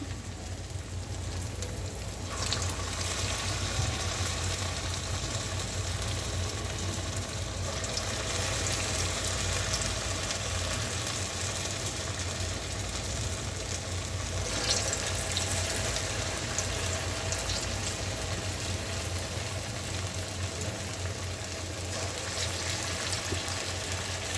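Medu vada frying in hot oil on medium heat: a continuous fizzing, crackling sizzle, steady and close, with brief swells where the bubbling intensifies.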